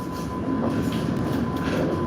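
A Sydney tram rolls past its tram yard with a steady, close rumble of wheels on rails and a faint humming tone, and no voices.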